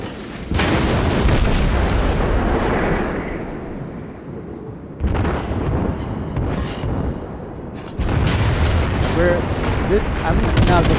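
The heavy naval guns of the cruiser Chester fire in World of Warships: booming salvos in three long, dense blasts with rumbling tails, loud and close, with no speech over them.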